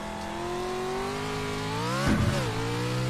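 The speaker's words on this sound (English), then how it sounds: "So I'll really rev the crap out of it." A car engine in the Pro4 racing video game on the Wild West track, revving hard and steadily climbing in pitch, then a brief dip and surge as it shifts, loud and close with no talk.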